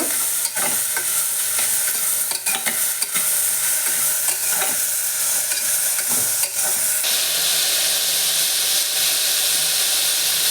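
Cluster beans frying with tomato in a pan, a loud continuous sizzle and hiss with stirring scrapes and brief utensil knocks, the hiss brightening partway through, no talking.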